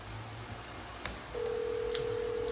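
A telephone plays dialing tones to place a call: a soft low hum gives way to a steady tone that holds to the end. Short sharp clicks cut in near the middle.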